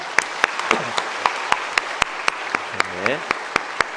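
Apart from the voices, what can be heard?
church congregation applause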